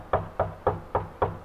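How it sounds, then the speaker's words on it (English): Five sharp knocks on a door land in a steady, evenly spaced rhythm, close and distinct against a quiet room. "can you hear the knock?"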